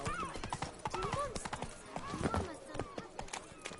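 Roach the horse gallops in The Witcher 3, with steady, close hoof clip-clops running throughout and a whinny-like call rising above them, under a talking voice.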